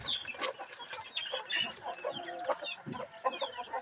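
Pet chickens cluck and chatter busily while being fed, overlapping calls up close with soft rustling between them.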